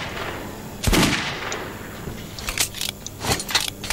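A weapon fires on a shooting range in the video game Metro 2033, a sharp loud shot followed by a quick cluster of lighter bursts and metallic clicks, close and without talk.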